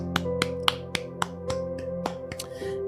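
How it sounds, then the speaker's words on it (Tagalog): A church congregation claps in a steady quick rhythm, sharp distinct claps about four per second over sustained keyboard music during a worship service, with no voices. "Malakas na palakpak po sa ating Panginoon."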